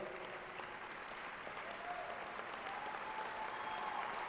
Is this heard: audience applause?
yes